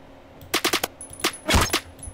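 Gunfire in the Roblox shooter Phantom Forces comes as a quick burst of four close shots, then single reports and a louder, heavier blast near the end, with no talking.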